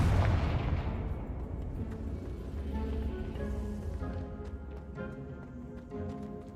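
Confringo blasting spell going off in the Hogwarts Legacy video game: a loud booming explosion at the start that decays into a ringing tail, followed by softer game effects and musical tones.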